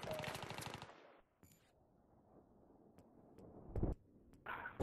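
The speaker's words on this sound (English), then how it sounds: "Yeah, he's shooting." A loud burst of rapid automatic gunfire opens the scene in an online military shooter match on the Kharg map, followed by near silence with scattered clicks and a short late rumble.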